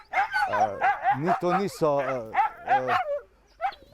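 Sled dogs bark, yip and whine excitedly, a rapid string of sharp close calls with a person speaking over them.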